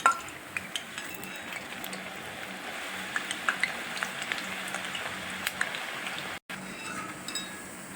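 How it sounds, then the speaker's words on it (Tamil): Potato chips frying in hot oil give a dense, steady crackling sizzle with scattered pops and a brief scrape, close by and without voices. "இந்த மாதிரி நம்ம லைட் ப்ரௌனிஷ் வர மாதிரி பொரித்து எடுத்துக்கலாம்."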